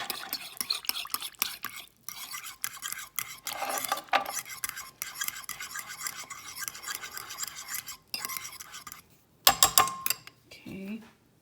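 Broccoli being stirred into a garlic sauce with a spoon, steady scraping and swishing strokes against the pan that pause briefly, then a few louder clinks near the end, with a voice speaking softly in between.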